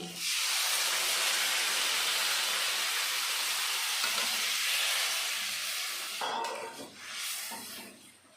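Water poured into a hot pan of Bhola fish curry raises a loud, broad sizzling hiss that holds steady for several seconds and then tapers off, alone without talk.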